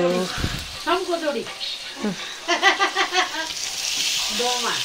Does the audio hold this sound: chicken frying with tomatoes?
yes